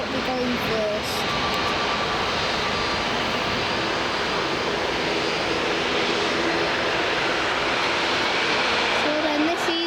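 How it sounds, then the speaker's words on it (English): A Jet2 airliner taxiing onto the runway at Manchester Airport, a continuous engine whine and rumble at moderate distance, steady throughout. "Also taxiing on is this Jet 2"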